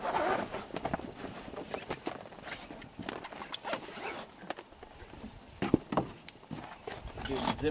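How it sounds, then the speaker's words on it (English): Yurt window zippers are pulled along their tracks in a series of close, scratchy ratcheting runs, with rustling fabric and light handling noises between strokes. "Do the zippers."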